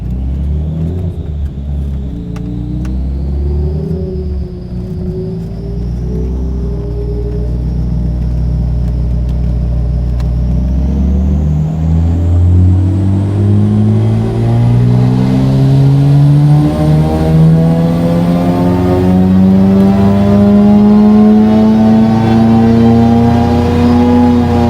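A car engine at wide open throttle on a dyno, its tone climbing steadily through a long rev ramp over a deep exhaust rumble, loud and close with no talk.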